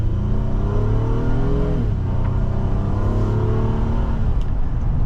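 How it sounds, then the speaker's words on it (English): A 2025 Honda Pilot Trailsport AWD with its V6 and 10-speed in sport mode accelerates from inside the cabin, a steady engine drone rising in pitch, dipping briefly at a gear change, then climbing again. "let's go into the sport mode and test out the 10-speed with the V6"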